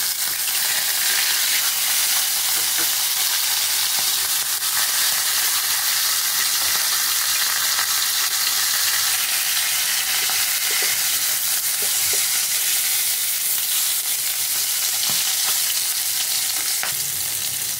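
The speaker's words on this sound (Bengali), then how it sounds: "তেলটা গরম হয়ে গেছে, এখন আমি মাথাটা ভেজে নেব।" A fish head frying in hot oil gives a steady, dense sizzle that carries on without a break for the whole stretch, with faint crackles and pops now and then and no voices over it.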